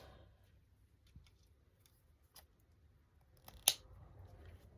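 Scissors snip through paper craft trim, a few sparse cuts with one sharper, louder snip near the end, close by in a quiet room.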